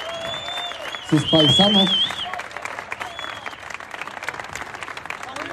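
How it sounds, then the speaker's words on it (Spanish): A crowd claps steadily at an orchestra performance by a Mexican military infantry battalion, with a voice speaking over the start and the applause continuing as dense, even clapping throughout. "Fuerte el aplauso a los de Michoacán"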